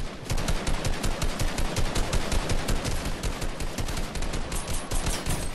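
Rapid, dense video game gunfire from a sniper match, a near-continuous string of loud shots rattling for several seconds with no talking over it.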